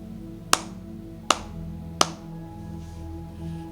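Three sharp, single hand claps spaced evenly about three quarters of a second apart, crisp and close, over a low steady background hum.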